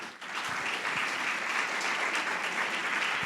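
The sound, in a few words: church congregation applause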